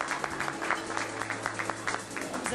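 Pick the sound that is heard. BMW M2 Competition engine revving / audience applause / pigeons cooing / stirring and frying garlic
audience applause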